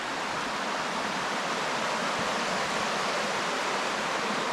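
A mountain creek at Parksville Lake RV Campground in the Tennessee mountains rushes steadily nearby, a dense, even roar of flowing water with no voices.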